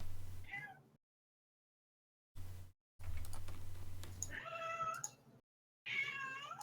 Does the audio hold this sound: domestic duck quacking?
no